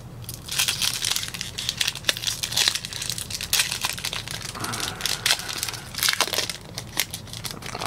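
Trading card packs, some with autographs and cracked ice foil, are torn open and handled up close, giving dense continuous crinkling and crackling foil wrapper noise with sharp rips throughout.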